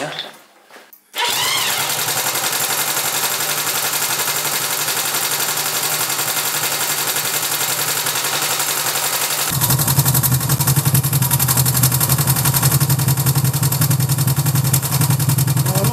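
A Honda CB 350 motorcycle engine fires up after a short cranking sputter, then runs in a steady loud idle that turns rougher and deeper partway through, while someone talks over it.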